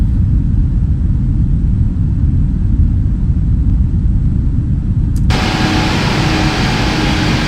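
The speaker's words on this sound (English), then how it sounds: "The engine sounds so good." Simulated Emirates Boeing 777 engine in Microsoft Flight Simulator 2024, a steady loud low roar and rumble with a broad hiss, changing abruptly partway through to a brighter, fuller wash of noise.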